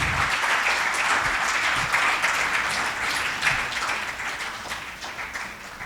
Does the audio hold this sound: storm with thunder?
no